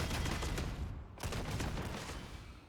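Repeated gunshots strike a bulwark enemy's shield in Warhammer 40K: Darktide, a dense, loud barrage of close firing with a brief pause near the middle before more shots continue.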